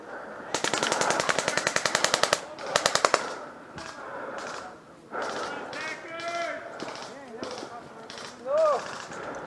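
Airsoft guns fire during an outdoor attack-and-defend game at Ballahack, with rapid close bursts of automatic shots followed by more bursts, then players shouting and talking over the field noise.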